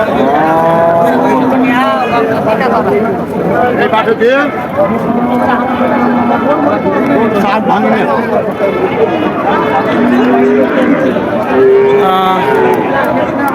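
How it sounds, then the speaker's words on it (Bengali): Cows and calves at a cattle market in Chaugachha, Jashore, lowing repeatedly, loud and close, over a constant crowd murmur with people talking throughout. "আরও কিছু গাবি সাথে বাছুর আপনারা দেখতে পাচ্ছেন"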